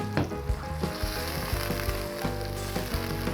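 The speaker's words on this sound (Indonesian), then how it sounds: "Aduk terus." Spices, nutmeg, cloves, star anise and sugar sizzle and fry in a pan as they are stirred for semur jengkol, a close, steady crackle with soft scraping bursts and no talk.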